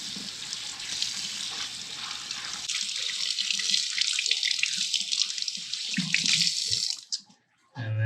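Tap water runs steadily over a lingcod fish head being rinsed in a sink, a continuous close splashing flow with brief interruptions and a sharp stop near the end.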